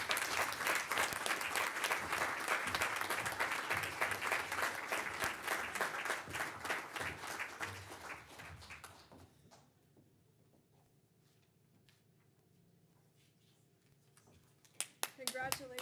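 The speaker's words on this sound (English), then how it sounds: "a round of applause for Ellie King as our Legacy Award winner for 2023" At an arts and business awards ceremony, an audience applauds a Legacy Award winner with loud, dense clapping for several seconds before it fades into a quieter room with some talk and a brief cheer near the end.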